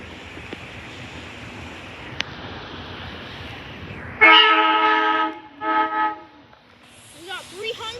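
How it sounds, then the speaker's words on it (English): Warminster commuter train with rail cars passing at Elkins, a steady rumble of wheels giving way to loud horn blasts that rise and fall, with a brief higher tone near the end. "I believe this is the Warminster train"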